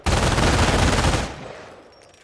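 An MG42 machine gun in the Company of Heroes video game fires one loud, continuous rapid burst lasting just over a second, then cuts off and its echo fades away.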